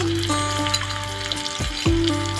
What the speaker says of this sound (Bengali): এবার আমি দেবো টমেটো। সুন্দর করে নেড়ে নিই।